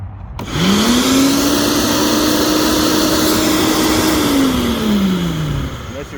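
A Yardworks electric garden shredder switches on and its motor whines up to a steady, loud hum, holds for several seconds, then winds down as it shuts off.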